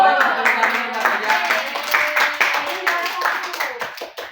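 A class of fifth-grade students claps together in a classroom, a loose run of hand claps continuing for a few seconds while voices overlap throughout.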